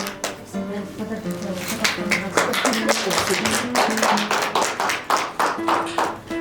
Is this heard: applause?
yes